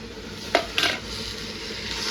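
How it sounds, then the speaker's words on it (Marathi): Tomato frying in a pan for chole, with a soft steady sizzle and two brief clinks of a spoon stirring against the pan, close and fairly quiet. "आपण मस्तपैकी आता टमाटा पण थोडासा फ्राय करून घेऊ."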